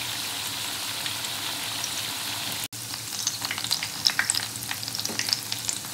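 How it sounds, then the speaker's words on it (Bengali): Semolina and vegetable snacks sizzle and crackle steadily in hot oil while being turned over, with the bubbling dropping out for a moment before resuming busily. "আমি তাহলে সবগুলো উল্টে পাল্টে ভেজে নিই।"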